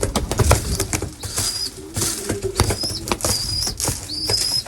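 Racing pigeons, young birds, flap their wings around feeding in a loft, giving repeated loud bursts of wingbeats with a few faint coos and chirps behind them, close by and with no talk.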